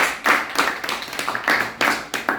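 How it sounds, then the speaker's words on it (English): A short burst of applause from an audience at a presentation, with distinct, fairly close hand claps landing in quick, uneven succession for a couple of seconds. "Please, another round of applause."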